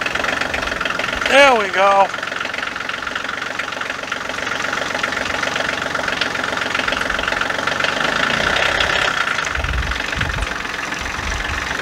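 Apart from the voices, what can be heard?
Kioti CK2610 tractor engine starting and idling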